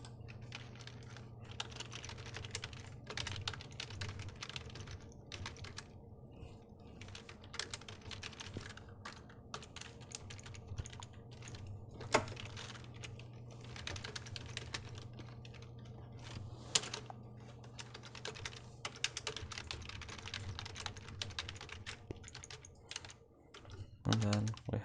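Steady typing of Python code on a computer keyboard, close and continuous clicking throughout with a low hum beneath and occasional speech.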